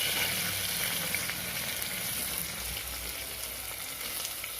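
Chopped onions sizzle steadily in a hot pan for a chicken curry, a continuous close frying hiss with faint crackles throughout, no voices.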